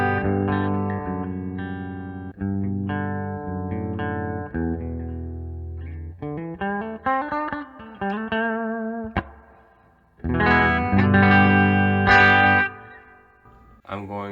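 Electric guitar through an amplifier plays chords and melodic runs with a gritty, overdriven tone and some reverb, loud and close with brief pauses.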